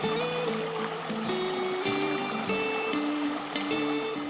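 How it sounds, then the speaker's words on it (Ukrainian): Mountain river water tumbles over rocks in waterfalls, a steady close rushing and splashing that stays unbroken throughout with no voices. "Потоки гірських річок спадають із скель, утворюючи водоспади."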